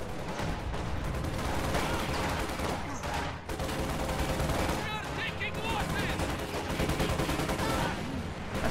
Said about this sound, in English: Contact! Small arms fire!